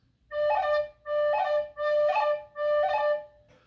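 Four evenly spaced bursts of bright tin whistle, each note decorated with a fast fluttering cran ornament, played close and alone at a brisk tempo.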